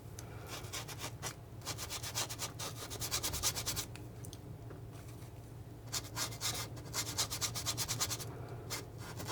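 A palette knife scrapes and smears paint across canvas in steady, close rubbing strokes, coming in bursts of rapid scratchy passes with short pauses between, over a low constant background hum.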